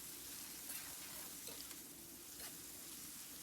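Small onion pieces fry in oil in a pan for a mutton curry, giving a steady, soft, even sizzle with no talk.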